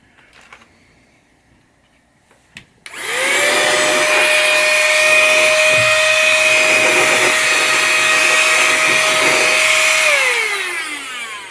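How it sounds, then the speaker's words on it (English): A small electric air blower, used in place of canned air while working on a 1980 Williams Firepower pinball machine, whirs up from near silence into a steady, loud rushing drone with a rising whine, then winds down near the end. "This is just a little electric air blower instead of using canned air."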